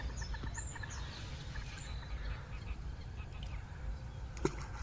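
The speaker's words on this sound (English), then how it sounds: "birds are singing." Birds chirp and call faintly beside a big river, scattered high notes over a low, steady background rumble, with a brief sharp knock near the end.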